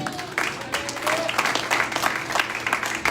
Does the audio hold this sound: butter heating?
no